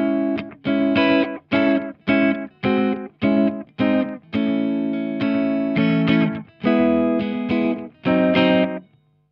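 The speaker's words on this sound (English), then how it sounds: "So it's a short delay with only one repeat." Distorted electric guitar plays a choppy rhythmic riff of short chords through a short delay, each with a quick single echo, loud and up close.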